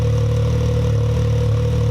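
Can-Am X3 XMR side-by-side engine fitted with an Evo Powersports full exhaust, idling steadily with a deep, even drone and light mechanical clatter, close and loud.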